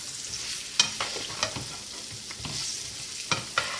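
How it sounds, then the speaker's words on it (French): Sliced onions cooking in a pan for caramelising, a soft steady sizzle broken by several sharp clicks and scrapes of a utensil stirring against the pan. "cuire notre oignon"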